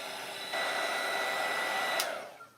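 A hair dryer blows a steady, loud whoosh close by, warming and drying a painted journal page, then tails off and cuts out near the end.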